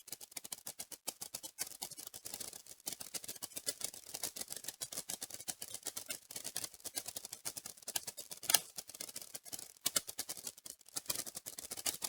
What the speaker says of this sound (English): so you guys can hear the sound of the keyboard